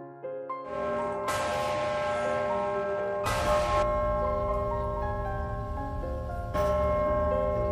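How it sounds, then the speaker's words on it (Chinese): The Centennial Bell in the tower of Independence Hall, Philadelphia, tolls in three loud, resonant strikes spaced a few seconds apart, each leaving a long ringing hum that sustains between blows. "如今，这口钟就挂在独立厅的钟楼上，有重大活动和日常报时都能听到洪亮的钟声。"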